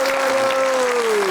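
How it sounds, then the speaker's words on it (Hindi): Audience clapping steadily for the dhol players at a live talk show, a continuous loud burst of applause with a sustained tone running beneath it. "पहले सारे तालियां बजाइए हमारे जो ढोल पे बैठे हुए हैं"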